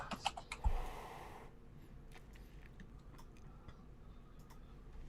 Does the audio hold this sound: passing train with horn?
no